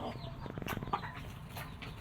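Chinese silkie roosters and hens give short clucks and a brief rising call at close range, over faint background rustle, with no talk.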